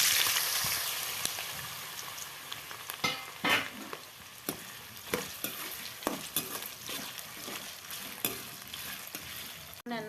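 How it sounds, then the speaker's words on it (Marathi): Potatoes fry in hot oil in a kadhai, a loud continuous sizzle broken by repeated scraping stirs of a spatula, fading slightly over time. "आलू फ्राय करते"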